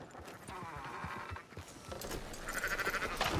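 Sheep bleat in the Red Dead Redemption 2 video game, two drawn-out wavering cries at moderate distance, with faint hoof clatter from livestock in the open countryside.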